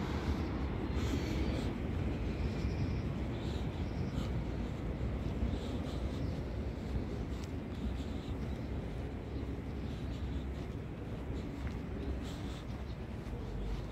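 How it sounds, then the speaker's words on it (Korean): A train rumbles past nearby in Noryangjin, Seoul, with a steady low roar and rattling that holds at a constant level, with no one speaking. "열차가 지나가는 길이다 열차를 가까이 볼 수 있는"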